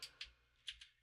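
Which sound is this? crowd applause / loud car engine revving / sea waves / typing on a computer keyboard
typing on a computer keyboard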